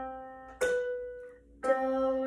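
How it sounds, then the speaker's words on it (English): An ascending major seventh interval, do to ti, played as two separate sustained pitched notes about a second apart. The tones are clear, fairly quiet and alone, the second ringing on to the end. "The next interval we're doing is the major seventh, and this is do to T, or 1 to 7, and it sounds like this."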